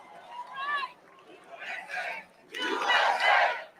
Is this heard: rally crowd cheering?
yes